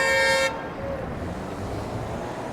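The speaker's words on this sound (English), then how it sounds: "Car went right through a red light right there. That's why that was honking." A car horn blares at a city intersection in a short sustained honk, fairly near, then gives way to steady traffic rumble and street noise.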